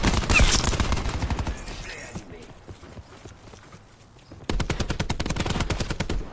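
Automatic gunfire in the Call of Duty video game, rapid loud bursts at the start, a quieter stretch of scattered shots, then another steady rapid burst near the end.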